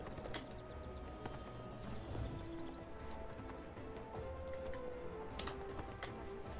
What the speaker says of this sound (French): Ça fait bizarre d'être sur un cheval.